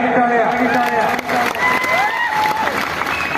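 Crowd clapping at a kusti wrestling match in Chandur, Kolhapur, a steady wash of applause running the whole time beneath a loud announcer's voice.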